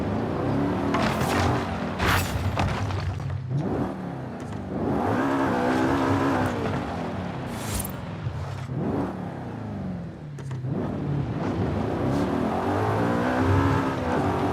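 A car in Forza Horizon 5 speeds up for a jump, the engine revving hard through repeated rising sweeps, with gear shifts and tyre rumble for nearly fifteen seconds.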